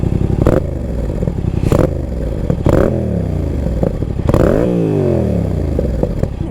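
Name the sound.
motorcycle with aftermarket exhaust revving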